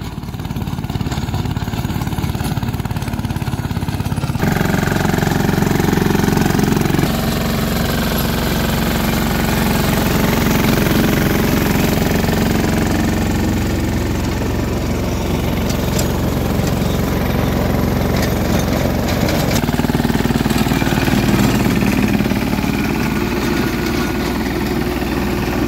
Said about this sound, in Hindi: ये 15 HP के ट्रैक्टर जो है इसको चला रहा है।